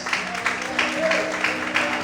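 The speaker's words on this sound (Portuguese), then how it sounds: "aplaude e exalte ao Senhor nessa manhã" Church congregation applauding at a morning service, a short burst of clapping with rhythmic peaks, voices audible beneath.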